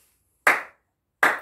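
Two sharp, loud hand claps ring out, spaced under a second apart, close and crisp with a short decay, otherwise silent around them.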